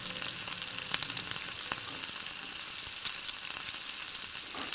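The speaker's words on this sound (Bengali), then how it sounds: "আমি ছোট্ট ছোট্ট করে বড়া দিয়ে এটা আমি ভেজে নেব।" Small lentil bora fritters fry in hot oil with a constant crackling sizzle and scattered pops, close and moderately loud, with no voices.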